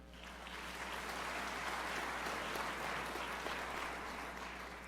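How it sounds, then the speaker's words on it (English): A rally crowd in Toronto applauds in a broad, sustained wash of clapping that stays even throughout, over a low steady hum from the hall's sound system. "I'll just ask you to hold your applause"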